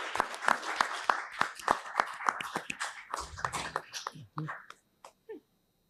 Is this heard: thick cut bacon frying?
no